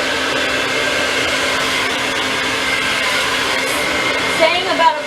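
A hair dryer runs steadily at close range while hair is blow-dried with a Denman brush, a constant loud whooshing roar with slight airflow changes near the end and no speech.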